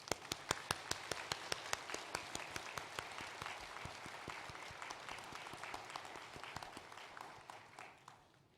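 A church congregation applauds together, a fairly faint, steady wash of clapping with a few sharp individual claps, fading out toward the end.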